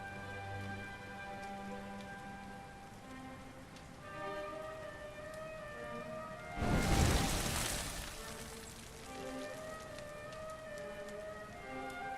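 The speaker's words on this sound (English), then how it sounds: "Looks like the rain's dying down." Rain falls steadily in Dragon Quest XI on the Switch as a soft continuous patter under sustained musical tones, with a brief heavier, louder surge of downpour partway through.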